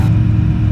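A steady, loud engine drone from an Evektor Sportstar light aircraft at full power in a climb, heard briefly and continuously up close from inside the cabin.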